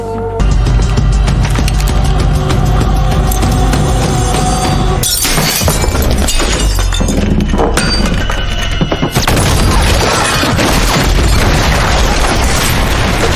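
A house where people are sheltering is bombed by armed troops in a film scene: loud, heavy blasts with shattering debris and crashing, one big burst erupting midway and a second following a few seconds later, with no talk.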